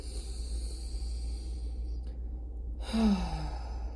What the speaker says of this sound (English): take a couple of nice, calm, deep breaths. Just really 3 or 4, just breathing in our nose and out our mouth.